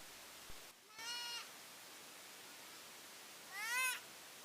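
A sheep or goat bleats twice, each a short, wavering call about three seconds apart, over a faint steady hiss with no talking.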